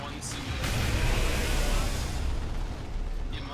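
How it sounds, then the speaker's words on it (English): Blue explosions from a Skyray barrage in the real-time strategy game Dawn of War II: Retribution, Last Stand mode: a sustained, loud rumbling burst of blasts and booms running almost the whole length, with a voice talking over parts of it. "because that just did a bunch of blue explosions"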